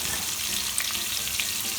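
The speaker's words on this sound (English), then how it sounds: "First I'm going to saute this onion." Chopped onion sauteing in rendered bacon fat, a close, constant crackling sizzle with small pops and no voices.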